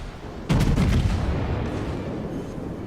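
A Montana battleship's rear guns fire in World of Warships: one sudden heavy salvo boom with a rolling, rumbling tail that stays loud and sustained for over two seconds.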